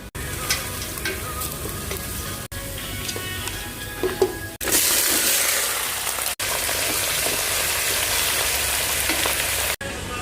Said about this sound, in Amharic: ከዛ ጥብስ ማድረግ ነው።